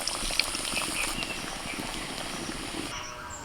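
Pakora batter frying in hot oil in a wok, a steady close crackling and bubbling hiss that runs evenly throughout with small pops scattered across it.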